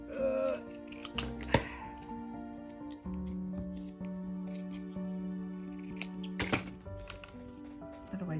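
Scissors snip through card for a handmade Christmas card, a few short crisp cuts and rustles with pauses between them. A steady tone hums in the background.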